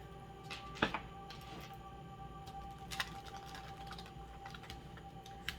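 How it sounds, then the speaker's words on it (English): Soft, rapid patter of tarot cards being shuffled, light papery clicks with a few sharper snaps, quiet and close, with no talking. "One more shuffle here before we cut."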